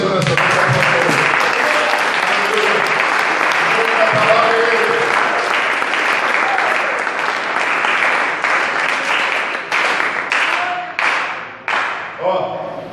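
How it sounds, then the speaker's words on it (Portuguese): A church congregation at an evening worship service breaks into loud, sustained applause with voices calling out over it, and the clapping thins into scattered bursts near the end. "Quem pode aplaudir o Senhor nessa noite?"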